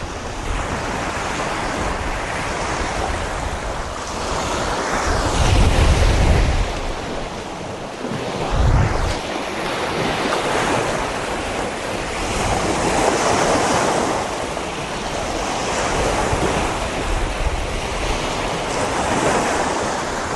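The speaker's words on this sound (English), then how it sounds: "The wind's starting to get up a little bit. The tide should about be fully in now." Wind buffets the microphone on an ocean shore at high tide as waves surge and wash in, with a continuous roaring rush swelling in louder crashes every few seconds.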